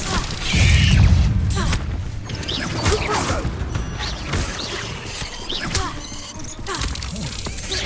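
In Hogwarts Legacy, a Confringo fire spell blast bursts with a deep booming thump early on, followed by crashing, creaking debris and clattering impacts amid continuous game sound.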